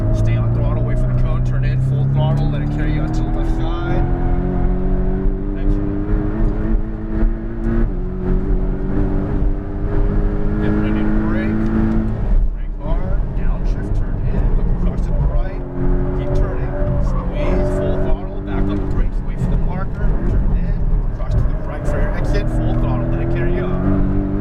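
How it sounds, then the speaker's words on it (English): A Porsche Cayman GTS engine at full throttle on a racetrack, revving up through the gears in rising sweeps with brief dips at shifts, loud and continuous, while an instructor talks over it. "Hug the left, stay on throttle, wait for the cone, turn in, full throttle, let it carry you out to the left"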